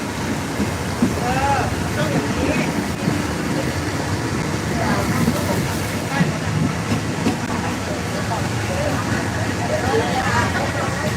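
Inside a third-class train from Bangkok to Hua Hin, a continuous rumble of the carriage over the rails with wind rushing through open windows, steady and close, while someone talks over it.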